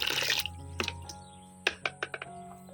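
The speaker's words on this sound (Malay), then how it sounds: "kita rendam kulit sapi dulu masukkan air untuk merendam" Water poured into a container to soak beef skin, a splashy rush at first, then scattered drips and small splashes, close by with no talking.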